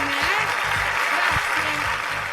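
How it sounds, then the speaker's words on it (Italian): Dense, continuous clapping from a crowd, steady and loud throughout, with a voice faintly audible underneath. "Grazie del scrosciante applauso che emanate dalle vostre panchine,"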